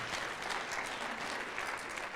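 An audience at a storm chasers' convention keynote applauds steadily, a dense even wash of clapping from a crowd.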